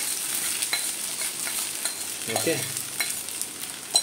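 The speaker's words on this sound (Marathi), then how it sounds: "बघा, आता मी असं मिक्स केलं, जास्ती नाही, थोडंसं मिक्स करा बस." Sabudana khichdi is stirred in a frying pan with soft scraping strokes over a faint sizzle, close and quiet, and a brief word is spoken once.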